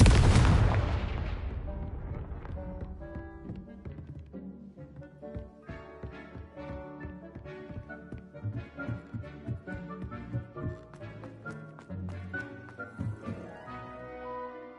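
A Confringo fire spell in Hogwarts Legacy bursts with a loud booming blast, followed by a long fading rumble and scattered crackles and pops over a soft musical background.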